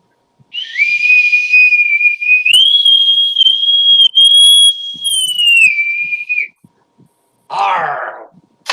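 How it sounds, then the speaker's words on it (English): A bosun's whistle blown in one long shrill, steady tone that steps up in pitch midway and then drops back before cutting off, followed after a pause by a short rough burst of noise. "And finally, the bosun's whistle."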